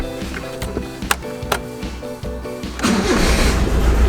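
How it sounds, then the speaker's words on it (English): A Toyota Corolla with its manual choke set cranks with a rapid, uneven rhythm of starter turns and a few sharp clicks, then catches and settles into a loud, steady idle, close by. "See if this car wants to start."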